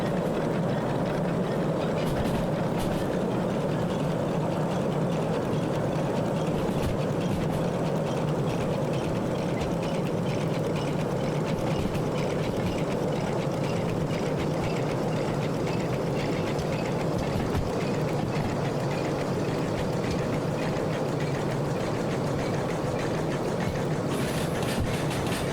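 A long train climbing a hill in the Derail Valley railway simulator game gives a steady, dense rumble with constant rail noise and wheel clatter, continuous and fairly loud throughout, with no talking.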